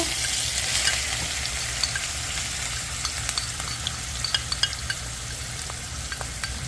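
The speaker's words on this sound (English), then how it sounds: "We'll put this in to start frying up." Spices and onions sizzle steadily in a hot pan, a dense crackling hiss with scattered sharper pops, close and unbroken.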